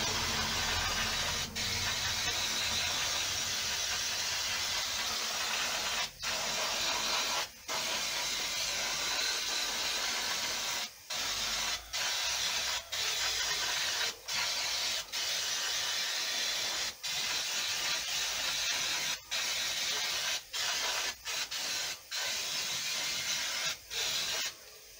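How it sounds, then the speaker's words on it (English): Brake cleaner sprays at length onto the rear drum brake of a 2006 Peugeot 206 1.4 HDI, a close, continuous aerosol hiss broken by a dozen or so brief pauses as the nozzle is released and pressed again. "a nice liberal dosing of brake cleaner"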